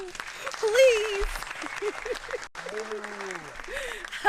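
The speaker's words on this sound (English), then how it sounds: "can we get a round of claps?" Applause greets Dave Wasson as he is called on stage on the geeked toon show, a moderate clatter of clapping that runs through the clip beneath a voice talking over it.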